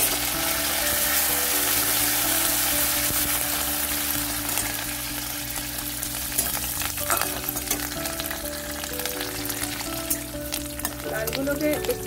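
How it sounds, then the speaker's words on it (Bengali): Curry leaves and green chillies frying in hot oil make a loud, steady sizzle throughout, with faint stirring scrapes and background music. "এগুলোকে একটু কড়া করে ভেজে নিতে হবে"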